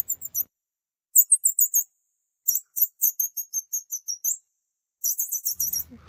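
Cartoon birds chirp in quick bursts of four to eight bright, high tweets separated by short silences, clean and close with no talking.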